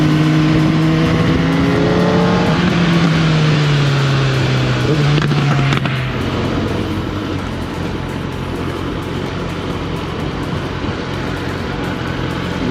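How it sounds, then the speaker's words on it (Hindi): A Kawasaki ZX10R sport motorcycle engine revs up with rising pitch, holds, then drops into a steady, rough roar close by. "बाइक के साउंड से मज़े लेंगे पूरे"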